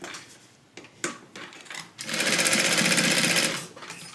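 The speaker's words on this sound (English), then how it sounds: "I'm going to go ahead and just sew these 2 bottom pieces together" A sewing machine stitching two bottom pieces of a tote together: a few brief taps and handling clicks, then a steady, fairly loud run lasting about a second and a half.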